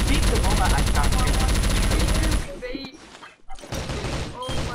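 Rapid automatic gunfire in the CrossFire shooter game, a dense burst of repeated shots for the first two seconds, then sparse thuds and clatter with voices talking over it.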